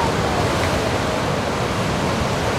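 Ocean surf breaking along the eroded coastline of Australia's Great Ocean Road, a steady broadband roar of waves with wind, continuous and fairly loud throughout, no speech.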